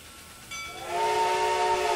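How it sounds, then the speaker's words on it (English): A sound-effect whistle on a model locomotive sounds once, a short steam hiss swelling into a sustained, loud, steady whistle tone that holds to the end. "Really nice whistle on that."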